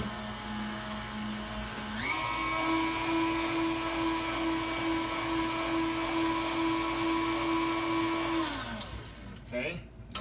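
An electric mixer stirs buttermilk pound cake batter with a loud, steady whirring drone that shifts up in pitch after a couple of seconds, runs evenly, then winds down and stops near the end.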